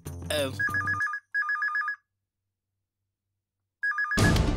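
A telephone ringtone plays a repeated warbling electronic trill in bursts, close and loud, with a pause of silence before it rings again, and a voice briefly over the start.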